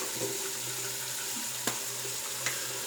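A warm tap runs steadily into a bowl at a sink, a soft continuous hiss of flowing water with a couple of faint clinks, no voices.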